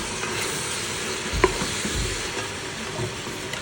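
Sem bean pods and potatoes fry in a pan with fenugreek seeds, giving a steady close sizzle with soft stirring scrapes and one brief clink midway, with no talking.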